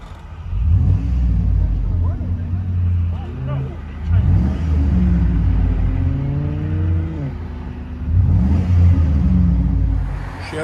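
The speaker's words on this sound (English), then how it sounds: "Single exhaust with a FLOWMASTER Super 10." A deep 5.3L V8 exhaust from a 2000 Chevy Suburban with a single Flowmaster Super 10 muffler rumbling nearby, revving up and settling back in repeated throaty surges with a low burble between them.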